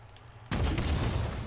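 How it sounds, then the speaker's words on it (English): A Warthog's mounted gun fires at a Razorback in Halo Infinite, a sudden loud blast cutting in from near silence and sustaining a dense, booming roar of impact and rumble, with no talk over it. "It takes two shots with the Warthog"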